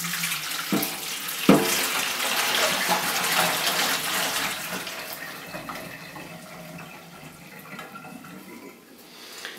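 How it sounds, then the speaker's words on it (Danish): Hot water poured off boiled potatoes into a sink, a broad steady rush of splashing water with a sharp knock near the start, fading slightly toward the end, no talking. "så nu skal vi jo have hældt, og vandet er jo stadigvæk varmt"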